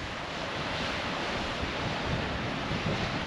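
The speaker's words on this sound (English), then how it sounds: "a bit of a pain that the wind was in, coming directly at us" Strong onshore wind at Misery Beach, Albany, roars straight into the microphone as a continuous, loud broadband rush, with surf noise mixed in and no voices.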